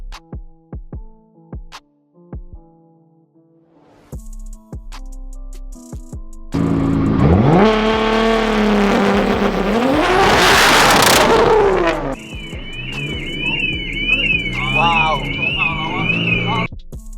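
After a few clicks and quiet sounds, a Nissan R35 GT-R launches hard on launch control, its engine roaring loudly up through rising revs, followed by an electronic chime and continued engine noise.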